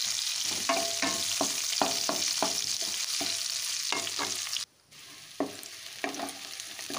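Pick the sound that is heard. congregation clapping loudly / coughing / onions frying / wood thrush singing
onions frying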